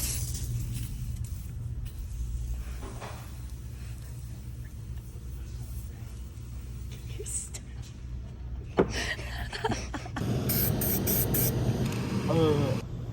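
Bursts of aerosol spray hiss come in near the end as a bracket is spray painted, over a steady low engine-like rumble, with faint voices in the background.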